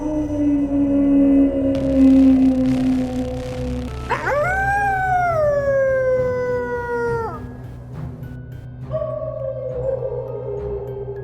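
A wolf pack howls before a hunt, with several long wavering howls overlapping, rising and sliding at a fairly close distance, then a few shorter calls that trail off near the end.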